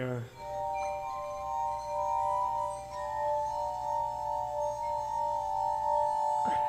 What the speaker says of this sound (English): he was using the glass harmonica just to play kind of mysterious chords